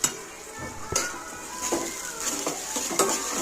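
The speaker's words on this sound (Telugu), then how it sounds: "ఆవాలు, ఆనియన్స్ వేసుకొని ఆనియన్స్ గోల్డెన్ కలర్లో వచ్చేంత వరకు మనం ఇది చేసుకోవాలి." Mustard seeds and chopped onions frying in a pan, a steady sizzle broken by a few sharp metal clinks of a spoon stirring, close and moderately loud, no voices.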